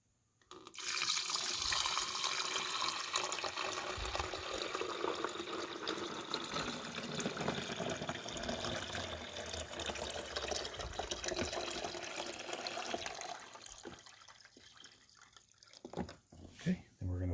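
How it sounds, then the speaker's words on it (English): Water from a carafe filled to the 14-cup mark is poured into the rear reservoir of a Cuisinart DCC-3200 coffee maker. A steady splashing trickle runs for about twelve seconds, then tapers off into a few faint drips and knocks. "I filled this up to the 14 mark with water, and we're just going to pour it in the back."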